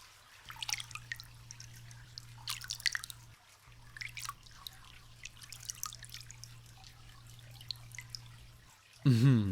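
Slow, soft water drips falling into a filled bath, spaced irregularly over a low steady hum, with a louder splash of movement at the very end.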